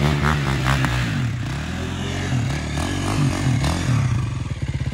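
KTM 450 quad revving on a winter ride, its engine loud and close with a buzzing, rising and falling tone and a choppy, pulsing idle toward the end.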